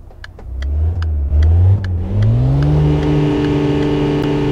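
A VW Passat Wagon engine in the City Car Driving video game revs while the car backs up, a loud close mid-pitched drone that rises and shifts pitch before settling into a steady hum.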